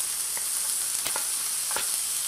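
Chopped onion dropped into hot olive oil in a pan gives a soft, steady sizzle with a few crackling pops scattered through it. No one speaks.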